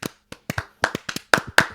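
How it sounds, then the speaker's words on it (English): A small group gives a round of applause, a handful of distinct close hand claps in an uneven, sparse rhythm lasting under two seconds, with no talking. "Can we get a round of applause for that?"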